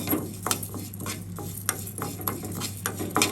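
Crushed dried chili being stirred in a pan as it heats for a chutney powder, with scraping spoon strokes against the metal and a faint dry sizzle, recurring in uneven bursts over a steady low hum.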